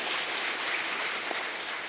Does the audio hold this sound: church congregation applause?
yes